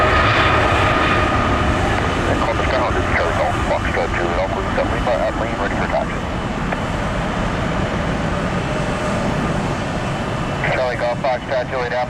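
A Southwest jet airliner taxis at Columbus airport, its engines giving a loud, steady roar throughout, with radio voices chattering briefly over the drone.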